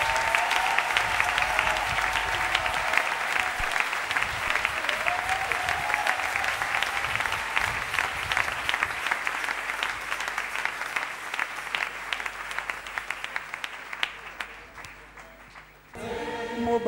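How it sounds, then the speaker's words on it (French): A church congregation claps loudly and steadily for the Lord, a dense sustained round of applause that thins and fades toward the end, with no clear speech. "Est-ce que nous pouvons acclamer le Seigneur?"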